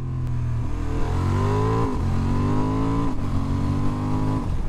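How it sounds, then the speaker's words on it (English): A 2023 Honda Hornet middleweight motorcycle with a quick shifter blipper pulls hard, its engine note climbing in pitch, then dropping sharply at each quick upshift in a repeating rising pattern, loud and close. "Surprisingly good quick shifter blipper"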